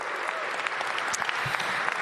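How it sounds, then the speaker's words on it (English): A crowd applauds the Washington Wizards players during a civic announcement, the clapping sustained and somewhat distant throughout the short moment. "Give them a round of applause."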